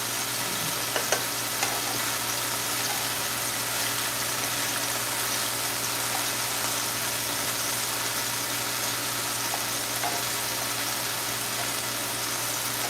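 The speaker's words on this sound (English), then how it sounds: "to cook it, of course, we want to cook our sausage" Sausage browns and fries in a pan, a steady soft sizzle throughout with a couple of faint clicks near the start, and no voices.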